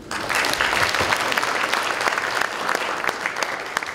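Audience at a forum lecture by a provincial governor breaking into applause, lively, fairly close clapping with sharp individual claps over a steady crowd wash lasting several seconds.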